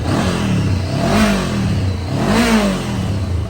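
A 2016 Honda CBR500R engine revs twice, rising and falling in pitch over a steady idle, close and loud.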